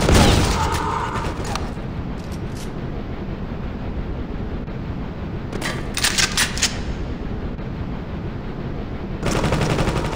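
Gunfire in the video game Counterspy: dense, sustained bursts of rapid shooting, loud and close, swelling again near the end, with no clear speech.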